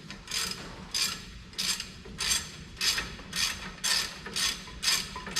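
A ratchet cranks in eight steady, evenly spaced bursts of fast clicking while loosening 18 mm caliper bracket bolts on a 2003 GMC Sierra, close and alone.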